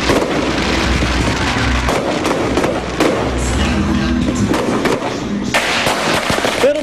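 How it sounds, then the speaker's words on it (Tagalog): Loud New Year fireworks display at a mall in Lipa, Batangas, with continuous dense crackling and booming bursts. Crowd noise and wind rumble run underneath. "panoorin ang magarbong fireworks display"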